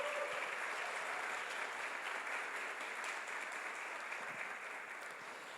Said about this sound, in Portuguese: Eu quero pedir à igreja uma salva de palmas a esses pais.